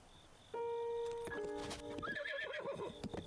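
Horse in Zelda Breath of the Wild gives a clear, close whinny over game audio, followed by a busy patter of hooves that trails off.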